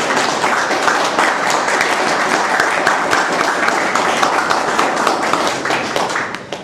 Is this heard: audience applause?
yes